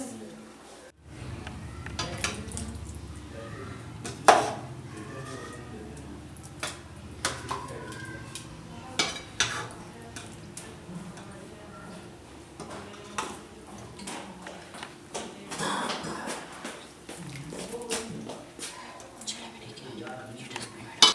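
Chicken shorba is ladled from a cooking pot onto a serving dish: intermittent metallic clinks, taps and scrapes of utensil on cookware over a quiet room background, with a few sharper knocks.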